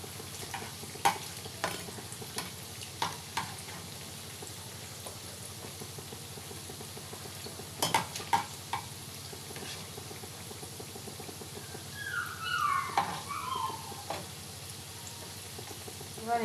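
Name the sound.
semolina rasgulla sweets frying in oil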